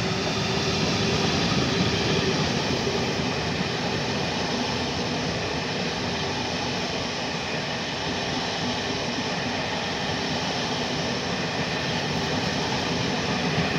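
A Skoda Varsovia metro train hauled by rail with protective wagons rolls past at Skierniewice, a loud, continuous rumble of wheels and engine close by, with no break for the whole stretch.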